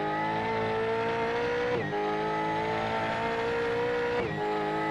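A Mustang V8 Supercar lapping in a sim racing video game, its engine droning at high revs with steady harmonic whine, briefly dipping twice as it shifts or lifts, continuous and close.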